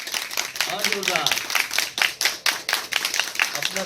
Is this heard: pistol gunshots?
no